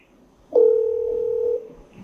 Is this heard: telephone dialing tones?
yes